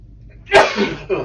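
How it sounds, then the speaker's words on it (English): A single sudden sneeze bursts out loud and close during a hard pushing exercise in a garage gym, trailing into a brief breathy exhale. "I always find when I push really hard, I start sneezing."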